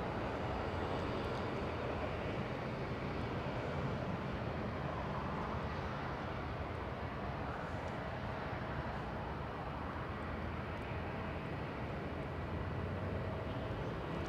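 Air Force One lands at Los Angeles International Airport as a steady, broad jet roar. It stays fairly distant and constant throughout, with no talk.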